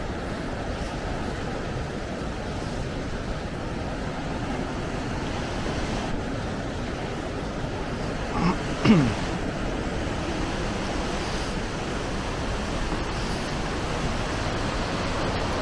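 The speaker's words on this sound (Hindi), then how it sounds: "ये देखिए नीचे बहती हुई काफ़ी तेज़ी से माँ गंगा की धारा।" The Ganges rushes fast below at Gangotri, a steady loud roar of flowing water with some wind buffeting, continuous throughout.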